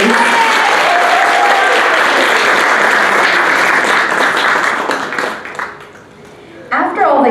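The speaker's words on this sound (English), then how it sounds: "Round of applause, please" Guests at a tea ceremony demonstration clap loudly and densely for several seconds, then the applause tapers off and fades to near quiet before a voice comes in at the end.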